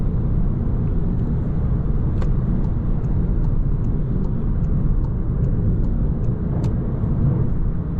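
Car cruising on a highway at 110 km/h on cruise control, slightly downhill, heard from inside as a constant low road rumble and engine drone with faint periodic ticks, steady and unbroken with no talk.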